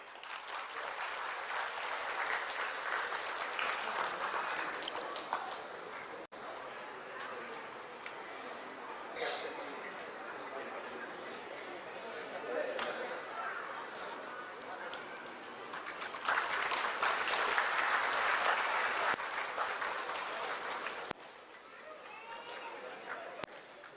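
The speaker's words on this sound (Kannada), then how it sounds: "ನಿಮ್ಮೆಲ್ಲರ ಪ್ರೀತಿಯ ಚಪ್ಪಾಳೆಯೊಂದಿಗೆ" An audience at a ceremonial lamp lighting, opening a friendly gathering of people from Puttur in Bengaluru, claps steadily for over twenty seconds, swelling louder near the end, with voices murmuring underneath.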